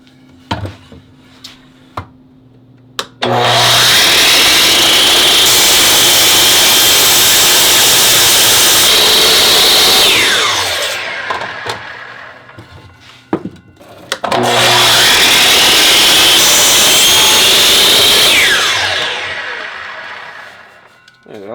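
Two long bursts of a power saw biting through wood during an angled 30-degree cut for a wooden weight plate rack, each loud pass spinning up, holding steady, then winding down, separated by a brief quiet gap with small knocks.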